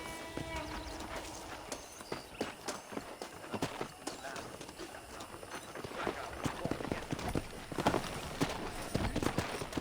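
Several horses gallop in the video game Red Dead Redemption, with rapid, overlapping hoofbeats against steady background noise, continuous throughout and moderately close.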